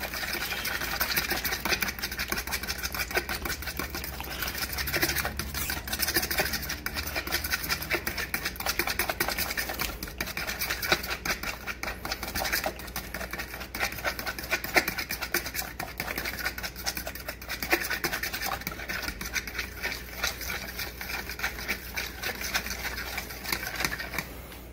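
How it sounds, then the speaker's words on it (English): Two eggs are whisked in a bowl for a cauliflower pizza, a fast, steady clatter of the whisk against the bowl that continues evenly for about 25 seconds with no talking. "we're going to whisk those up"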